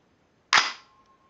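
A Radical Firearms AR-15 7.5-inch pistol's charging handle is pulled and released, chambering a round with one sharp metallic snap followed by a brief ringing decay, close and alone.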